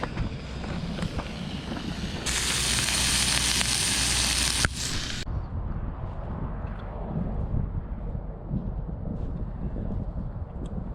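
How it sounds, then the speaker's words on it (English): A steak sizzles loudly in a pan outdoors, a bright hiss swelling for a few seconds and then dropping to a quieter crackle under steady wind noise. "began to cook a steak out of the view of any passersby"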